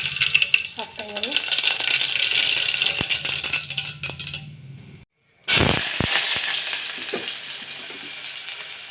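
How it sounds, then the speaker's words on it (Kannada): Mustard seeds dropped into hot oil in a pan for a cabbage stir-fry, crackling and spluttering densely at first, cutting out briefly, then resuming with sharp pops and sizzle. "ಎಣ್ಣೆ ಕಾಯ್ತಾಯಿದೆ. ಈ ಟೈಮಲ್ಲಿ ನಾನು ಸ್ವಲ್ಪ ಸಾಸಿವೆನ ಹಾಕ್ತಾಯಿದ್ದೀನಿ."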